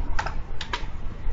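Keystrokes on a computer keyboard while Java code is entered, a few quick clusters of clicks close up with short pauses between them and no voices.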